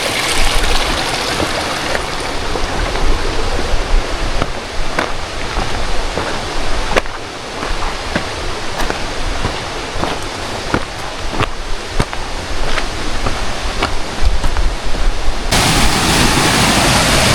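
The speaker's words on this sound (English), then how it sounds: "We came up on our first stream crossing." Steady rushing water from a mountain stream crossing in a canyon on the Cucamonga Peak trail, tumbling over rocks, fills the whole time with broadband hiss and occasional splashing clicks; no voices.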